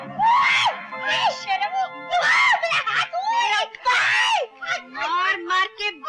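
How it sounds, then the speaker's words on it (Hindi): A woman screams again and again in high, strained bursts during a heated domestic quarrel indoors, loud and close, with other voices shouting between the screams. "क्यों चिल्ला रही हो?"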